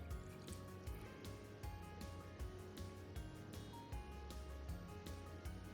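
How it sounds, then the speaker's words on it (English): Water is poured into a pot for pork miso soup, a steady filling splash with faint drips over a low kitchen background, running continuously without speech. "Add water 800 cc."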